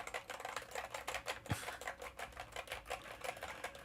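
Keys clattering on a Corsair K100 keyboard, a quiet, fairly rapid run of clicks close by with no talking.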